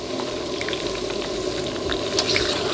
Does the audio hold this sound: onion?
yes